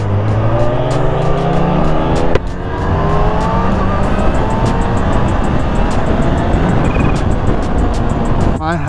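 A 2019 Kawasaki Ninja H2 motorcycle pulling hard in a roll-on, its engine note climbing steadily in pitch with a brief shift break, loud and close, with heavy wind rush throughout.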